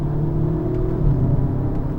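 A 2019 Audi S3 accelerating hard, a deep rumbling engine drone with steady harmonics and a brief shift in tone, heard from inside the cabin without talk.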